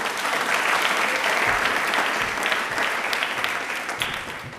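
Loud, dense applause from a studio audience at a televised Hindi railway quiz programme, sustained steadily throughout and tapering slightly near the end.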